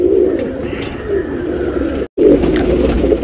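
A male Thamral tournament pigeon coos up close in a steady, throaty, low warble that runs almost continuously with one brief break.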